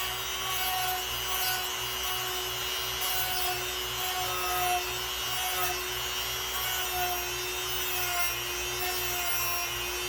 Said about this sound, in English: the way I grind. Again, I keep the wheel in line with the razor.